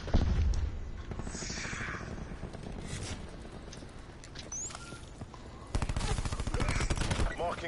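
Dense gunfire in the video game Borderlands 4, rapid overlapping shots and automatic bursts running throughout with a heavier volley near the end, loud and busy with game effects and some voices underneath.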